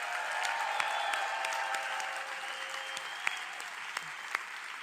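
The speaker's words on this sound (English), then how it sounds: "please let me welcome all our friends and partners from Europe and other places around the world on this session with a loud applause from South Africa" Loud, steady applause from a large audience at a session in South Africa, a dense wash of clapping sustained throughout with a few sharper claps and faint whistles standing out.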